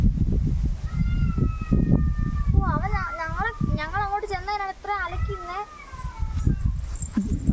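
Kittens meowing in a rural spot among rubber trees, a run of several high, wavering mews in quick succession, close and clear over steady wind noise and low rumble, with a voice briefly in the background.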